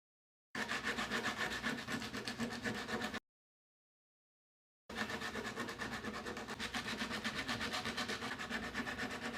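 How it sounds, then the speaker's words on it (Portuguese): Carved wood being hand-sanded over lettering with 60-grit sandpaper, steady rapid rasping strokes in two long close runs separated by a brief pause. "Vamos pegar um pedaço e vamos lixar por cima da letra."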